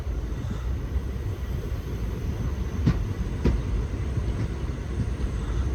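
The Vanchinad Express, a Kerala commuter train, pulls into the small Tripunithura station with a steady loud rumble and a few sharp clanks, with no voices.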